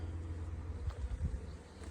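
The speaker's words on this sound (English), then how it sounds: "This is a completely full bucket of bees." Faint, low buzzing of a full bucket of honey bees humming together, a soft continuous drone with a few brief louder swells.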